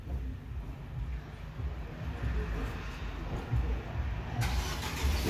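A car engine turns over and settles into a mid-pitched running rumble, fairly faint and steady, with a brief brighter burst near the end as it moves off.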